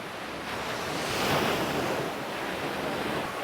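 Surf breaking on a small beach at Uluwatu, Bali, a steady broadband wash of waves with a slight swell near the middle, mixed with wind rumble against the microphone and no voices.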